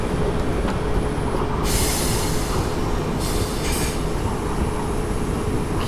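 A train pulls into platform 1 on the Hampton Court to London Waterloo run in Train Simulator 2018, with a steady, loud rolling rumble and a few bright bursts of wheel squeal as it slows.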